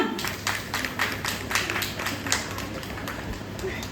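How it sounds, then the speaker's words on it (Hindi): A small group claps in a quick, uneven rhythm for prize winners at a Karva Chauth celebration at an NTPC gathering, close and moderately loud, with voices mixed in. "तालियां।"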